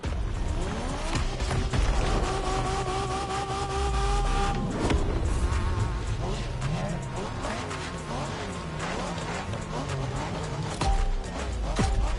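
Race cars in The Crew Motorfest video game during a Japanese street race, with revving engines, shifting pitch and bursts of tire squeal over about twelve seconds, layered with game sound.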